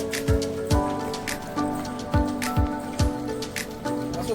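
Rain at Digha beach during a car-camping stop, a steady hiss and patter broken by regular, rhythmic thuds throughout.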